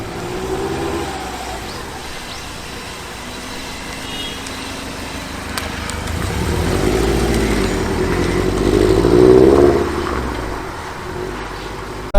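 A 2002 Subaru WRX STi GDB Prodrive Edition pulls away, its engine note rising in a steady swell from a low idle to a louder, revving peak, close and continuous.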